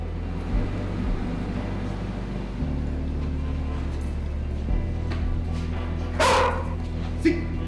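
Explosives detection dogs bark during ATF advanced K9 scenario training, sharp yips and barks rising over a steady low engine hum, with a louder burst near the end.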